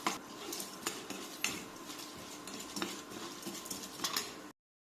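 Garlic cloves and chana dal fry in a pan while being stirred, with repeated metallic scrapes and clinks of the utensil against the pan over a soft sizzle, close up, ending in abrupt silence.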